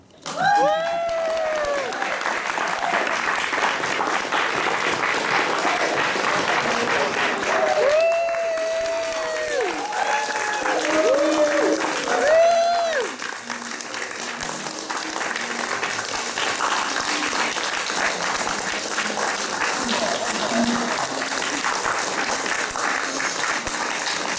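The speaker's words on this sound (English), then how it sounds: "Audience, give yourself a round of applause!" An improv theater audience applauds at the close of a spontaneous farce show, a dense burst of clapping with scattered whoops and cheers that holds strong for about twelve seconds before thinning into a softer, trailing patter.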